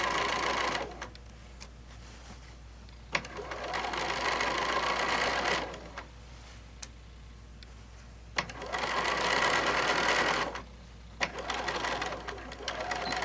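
A sewing machine runs in three bursts of rapid, even stitching close to the edge of a fat-quarter tote, each run stopping with short pauses between, loud and near.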